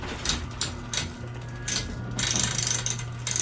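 A stove door latch opens with a run of sharp metallic clicks and clanks in quick, uneven succession, close and fairly loud, with no talking over them.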